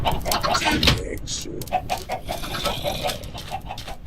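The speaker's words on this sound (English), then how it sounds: "this is Mumbo Jumbo's chicken farm" Chickens clucking on a Minecraft chicken farm, a run of short repeated clucks and squawks at moderate loudness with a person talking over them.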